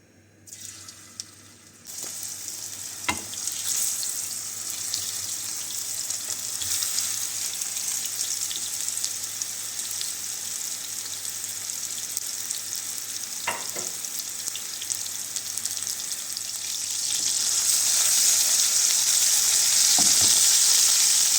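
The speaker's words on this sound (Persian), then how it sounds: "و بعد در تابه‌ای روغن میریزیم و گوشت‌هایی که قلقلی کردیم رو" Small meatballs fry in oil in a pan, a steady close sizzle that runs throughout and grows louder toward the end, with occasional clicks from stirring.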